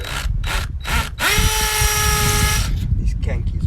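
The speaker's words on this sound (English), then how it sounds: "Marking where to drill the holes." A power drill whirs through short bursts and then one sustained rising whine as it bores holes for mounting solar equipment at an off-grid home in Italy, close and loud.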